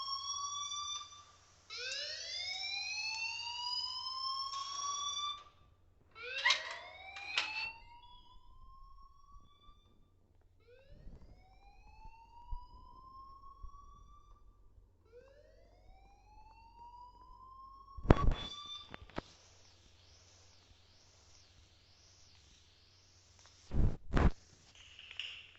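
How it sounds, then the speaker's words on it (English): Wailing electronic alarm from the video game Life is Strange, with repeated rising siren sweeps and sharp bursts, loud and steady over a low hum. "please turn off that alarm since that's your job"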